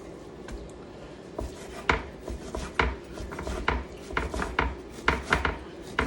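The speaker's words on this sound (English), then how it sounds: "And so you just continue to slice it in thin slices." A knife slices beef into thin slices on a cutting board for pepper steak, giving a series of close, irregular crisp chopping strokes with soft scraping between them, quiet and without talk.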